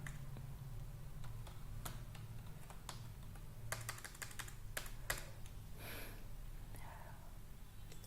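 Keys on a computer keyboard are tapped in a short irregular burst of clicks, close by over a steady electrical hum.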